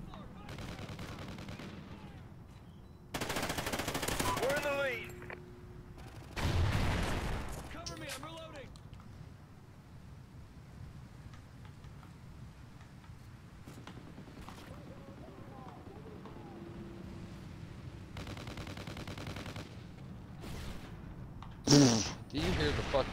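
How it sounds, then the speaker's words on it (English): Bursts of light machine gun fire from a Call of Duty: Ghosts multiplayer match crackle in short broadband volleys, one heavy burst near the start and a sharp shot late, with background game noise and a voice talking over it. "LMG spam going off."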